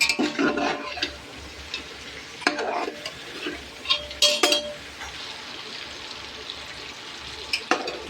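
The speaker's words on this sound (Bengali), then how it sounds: "দুই হাতে করে আমায় এখন নাড়তে হবে।" Fried chicken being stirred into biryani in a pan, with scraping and clinking strokes over a low sizzle, several sharper knocks standing out, close and without talk.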